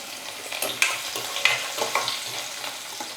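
Chopped garlic and green chillies fry in a pan and are stirred. Close, steady sizzling is broken by several sharp scraping strokes of the spoon against the pan, with no talking.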